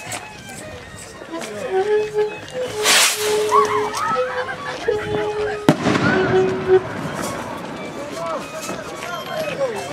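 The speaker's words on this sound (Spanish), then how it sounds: "Bombas de bombardas, estamos llegando ya a la plaza principal." Firecrackers (bombardas) crackle and pop repeatedly during a festive procession approaching the main plaza in Misquipata, Peru, with sharp bursts and hissing over crowd noise and a sustained tonal band, while people talk nearby.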